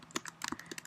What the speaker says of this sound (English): you could also press Windows S on Windows 8